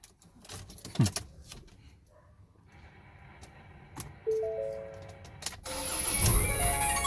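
Ford Ranger FX4 engine starting after a battery replacement: a short cranking burst, then the engine catches and settles into a steady idle, with some clicks and handling noises before it.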